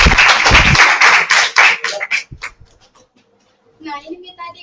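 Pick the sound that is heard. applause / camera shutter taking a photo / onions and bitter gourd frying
applause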